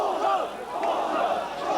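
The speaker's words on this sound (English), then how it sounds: "The air was filled with shouts of "Fascists!" Huge crowd in Tiananmen Square shouting in unison at a line of soldiers, a dense roar of raised voices rising and falling, sustained and loud.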